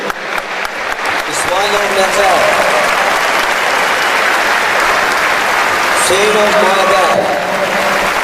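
Audience applause at a memorial ceremony for a martyr in Füzuli district, a loud steady clapping crowd sustained throughout while a man reads names over a microphone.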